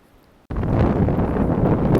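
Strong wind gusting on the Appalachian Trail near Shenandoah, a sudden loud roar buffeting the microphone after half a second of near quiet and holding steady to the end.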